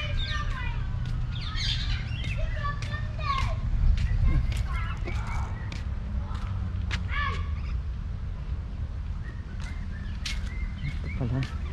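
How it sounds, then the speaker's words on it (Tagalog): Birds chirp at Caroline Bay in Timaru, New Zealand, with frequent short, bright tweets scattered throughout over a constant low outdoor rumble and distant voices. "Ibon."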